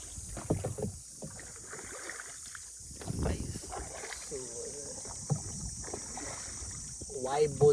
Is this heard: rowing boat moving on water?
yes